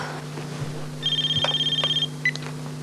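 A telephone rings with a steady electronic trill in a domestic drama scene, one sustained burst followed by a short chirp, over a constant low hum.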